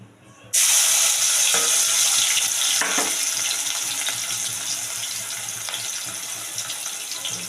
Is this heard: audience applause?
no